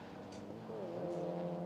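Mazda MX-5 race cars in a BRSCC championship round at Snetterton round Coram into Murray's corner, their engines droning at moderate distance with pitch rising as they accelerate, fairly faint.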